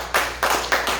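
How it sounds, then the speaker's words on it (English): Hands clap four times in a quick, even rhythm, close by and fairly loud, with no talking in between. "I'm in a hand clapping mood today"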